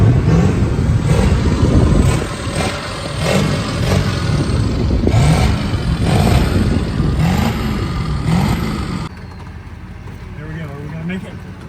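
A pickup truck's engine revs hard while hauling giant wooden spools, its loud, throaty roar swelling and surging in repeated pushes, then dropping off to a quieter idle near the end.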